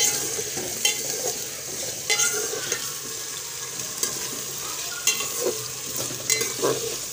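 Chicken pieces browning in a pan, a continuous close sizzle punctuated by regular spoon scrapes and stirring knocks every second or so.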